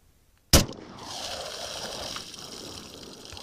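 A 10mm pistol fires a single 200gr XTP bullet into water jugs outdoors: one sharp, loud shot followed by a splash and water gushing and trickling.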